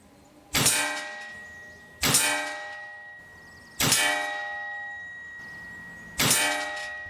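A Hatsan JET 2 PCP air pistol in .177 fires 14.35 grain pellets four times at uneven intervals, each shot a sharp, loud crack followed by a bright metallic ringing that fades slowly.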